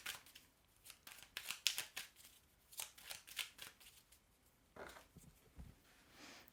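Tarot cards being shuffled and drawn, a quiet, close series of crisp flicks and riffles in irregular bursts with short pauses between them.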